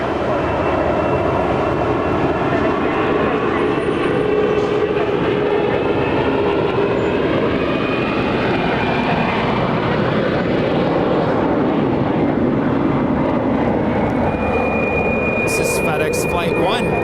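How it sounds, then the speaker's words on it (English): A 25-year-old FedEx MD-11 jet departing at night from LAX, its engines a steady, loud roar that holds throughout with a faint rising whine, while a voice talks over it. "departing to Memphis. It's an MD-11, 25 years of age."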